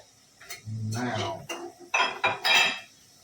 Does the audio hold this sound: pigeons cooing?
no